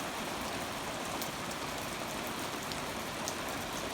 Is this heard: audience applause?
no